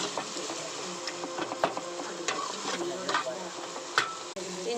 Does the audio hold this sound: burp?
no